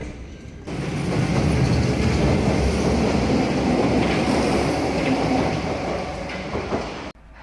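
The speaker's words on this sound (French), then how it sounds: "j'ai pris le métro pour aller à mon hôtel" A Paris metro train in motion gives a steady, close rumble with rattling wheels on the rails, holding for several seconds from inside the carriage before cutting off abruptly.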